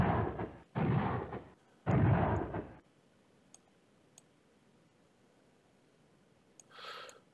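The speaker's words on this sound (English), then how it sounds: "he's bombing the shit out of my battalion here" An artillery bombardment in the wargame Command Ops 2 sounds as three long, loud, rumbling bursts in quick succession, then near silence broken by faint clicks and a brief softer rush near the end.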